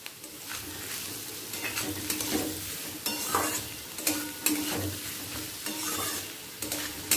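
Chopped green chilies are stirred into frying onion in a pan for chicken egg tarka, loud sizzling broken by repeated scraping spoon strokes against the metal pan, near and without speech.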